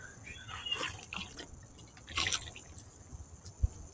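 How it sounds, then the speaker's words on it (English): Lemonade splashing and dripping: a faint stretch of scattered splashes and small drips, with a brief louder spatter midway and a low thump near the end. "It's not whenever you have kind of juice, lemonade pouring into your eyes."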